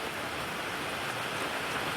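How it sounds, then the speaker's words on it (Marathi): Heavy rain driven by strong wind sweeps over Mumbai's suburbs, a dense, steady hiss of downpour that fills the whole moment without pause. "मुसळधार पाऊस, तीव्र वेगानं वारे वाहता आहेत"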